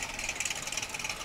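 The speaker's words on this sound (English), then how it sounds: "Listen to those engines." Chevrolet Camaro engines idle and rumble in a steady, moderately loud drone as the cars roll past in a Fourth of July street parade.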